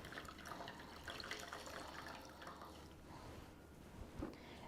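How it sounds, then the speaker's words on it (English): Gentle sloshing and trickling of warm soapy water as a microfiber cloth is dipped and moved in it, close and fairly soft, with a small splash near the end. "I'm going to dip it in some warm soapy water."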